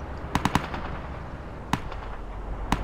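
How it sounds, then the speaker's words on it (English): Gunfire in the game Arma 2: a quick cluster of three sharp shots, then two more isolated cracks, moderately distant over low ambient rumble. "we've got fire from our northeast"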